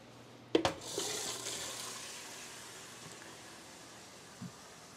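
Water poured into a seed starting tray: a short, quiet splash at the start that fades into a soft trickle, followed by a faint drip near the end.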